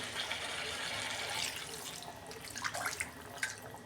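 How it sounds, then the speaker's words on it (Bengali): Water poured into a pot of homemade chicken curry whose spices have just been fried down; a steady, close splashing pour runs throughout, with small bubbly splashes and drips toward the end. "আমি জল দিচ্ছি এবার।"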